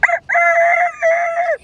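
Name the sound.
child imitating a rooster crowing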